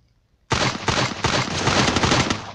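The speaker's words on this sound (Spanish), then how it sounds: "me voy a despedir con dos headshots con la nueva arma" Gunfire from a new weapon in the Free Fire video game bursts in suddenly after a short quiet lead-in, a loud, dense, rapid stream of shots running continuously to the end.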